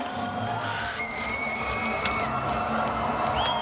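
A home crowd cheers and whoops at a world weightlifting championship in the 94 kg clean and jerk, with a loud, steady roar and scattered shouts and whistles throughout.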